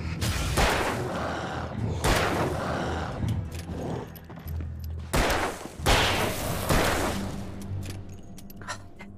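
Gunfire from the video game Alan Wake comes in loud, close bursts of rapid shots separated by short pauses, with sharp reports and echoing tails across the stretch.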